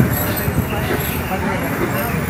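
Road traffic in Tirupur heard from inside a moving TNSTC bus, a steady loud rumble of engine and road noise, with someone talking over it.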